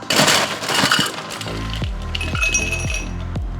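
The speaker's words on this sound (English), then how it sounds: "get yourself a highball glass. We're going to load that up with some ice." Ice cubes clatter and clink into a highball glass for a Paloma cocktail, a loud rattling burst followed by several sharp, ringing glass knocks as the cubes settle, close up with no talking.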